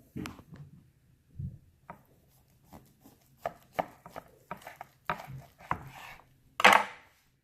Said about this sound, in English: So we're going to go ahead and slice into this and let you see the inside of it.